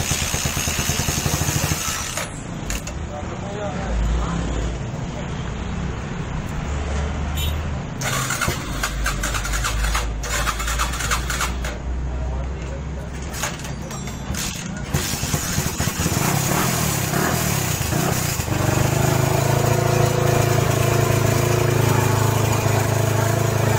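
A Yamaha Scorpio motorcycle, fitted with a replacement exhaust and a welded tank, fires up in a workshop and runs loudly and steadily, its rough engine drone holding for the whole stretch with a few voices faintly underneath.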